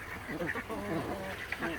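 Ducks on a farm quack in a short, quick burst of several overlapping calls, fairly close and moderately quiet.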